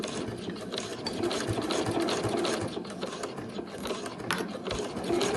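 A sewing machine stitching a travel wallet runs steadily and close, a continuous busy mechanical whir with rapid needle clatter and no pauses.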